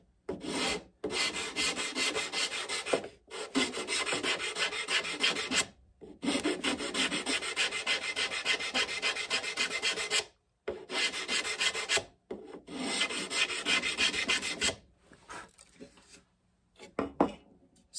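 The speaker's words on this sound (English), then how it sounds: "I'm just going to take a rasp here" A hand rasp files wood on a skin-on-frame Greenland kayak frame in steady repeated strokes, each rough scraping pass separated by brief pauses, close and fairly quiet with no talk.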